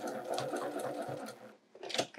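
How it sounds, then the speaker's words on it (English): Home sewing machine taking a couple of starting stitches for free-motion quilting, a short close whirring burst with rhythmic needle clatter, a brief pause, then another quick run. "take just a couple of stitches to get started"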